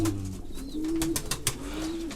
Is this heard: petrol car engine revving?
no